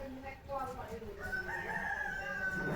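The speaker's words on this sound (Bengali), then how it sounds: "পাশের বাড়ি মুরগি ডাকছে" A rooster crows somewhere outside, moderately distant and clear, its drawn-out call rising over soft indoor background noise.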